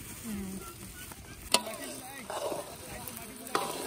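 Meat is stirred as it fries in a pan at an outdoor picnic, with soft sizzling and a few sharp scrapes of the utensil against the pan under occasional nearby voices.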